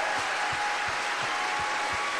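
A live audience cheers and applauds at a speech event, a steady dense wash of clapping and crowd noise heard from a distance, unbroken for the whole moment.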